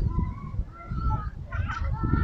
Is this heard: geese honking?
yes